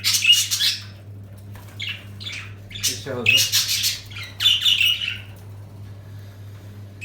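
Pet budgerigars kept for breeding at home let out harsh, close squawks and chirps in several bursts, with a steady low hum behind them and a brief spoken voice partway through.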